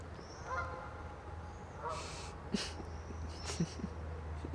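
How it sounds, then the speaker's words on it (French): Swans call from the water's edge on a sunny morning, several faint honking notes spread out over a soft outdoor hush, heard from some distance with no talking. "il y a encore des cygnes là-bas"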